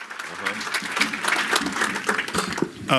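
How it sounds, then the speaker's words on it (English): Audience applause at a Washington, DC summit, welcoming a speaker to the stage: dense, steady clapping throughout, with a voice talking over it. "Give him a round of applause."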